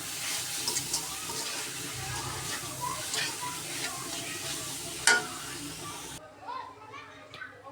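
Greens fry with dried chili powder in a pan while being stirred, making a crackling sizzle with scraping, under children's voices and chatter in the background, then quiets near the end.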